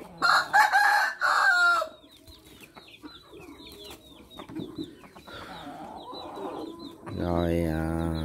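A Tích Phật hầu bò rooster, a mixed American-Vietnamese fowl, crows loudly near the start, then gives scattered soft clucks and calls before a second long crow at the end.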